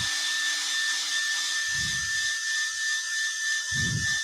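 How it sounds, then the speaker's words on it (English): A steady high-pitched blowing hiss of a hair dryer drying a woodturning piece runs throughout, with two brief low thumps underneath. "So I'm just going to dry over this a little bit more with the hairdryer"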